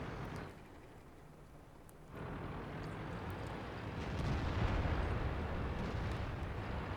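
Tank gunfire in a World of Tanks battle, with shots landing on a T-28 prototype: heavy, rumbling booms and a noisy blasting roar that swells louder partway through, with no talking.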